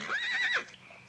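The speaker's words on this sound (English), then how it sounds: "Hey, that couldn't be our horses." A horse in a Western drama lets out one short, shrill whinny, rising and wavering, then fades into quiet.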